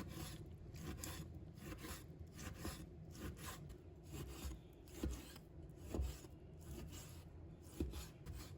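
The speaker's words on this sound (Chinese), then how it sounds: "先把它切成薄一点的片" A kitchen knife slices fatty pork foreleg meat into thin pieces on a board. The strokes are soft, rhythmic, rasping and faint, with a few slightly firmer cuts.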